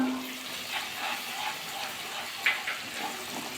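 Water pours into a pan of cauliflower curry spices with ground cumin, chilli powder and tomato paste, a steady hiss and splash lasting a few seconds, fairly close.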